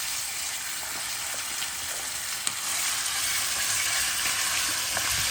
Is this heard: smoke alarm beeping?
no